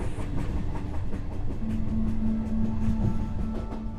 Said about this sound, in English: When you see the train now is for the tourists to explore the forest.